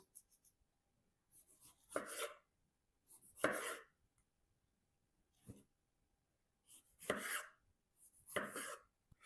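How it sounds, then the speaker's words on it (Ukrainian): A knife chops a tomato into cubes on a cutting board in several short bursts of quick strokes, separated by pauses, close and fairly quiet. "І тепер нам потрібно його нарізати довільним кубиком."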